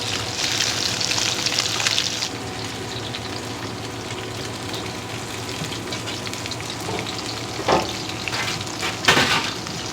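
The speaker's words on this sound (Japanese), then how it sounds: "甘鯛は鱗結構柔らかいんで、高温で 焼いたり揚げたりすると 食感がパリパリっとするんで" Amadai tilefish with its soft scales left on sizzles and crackles in very hot oil, a steady bright frying hiss with a few louder spitting bursts toward the end, no voices.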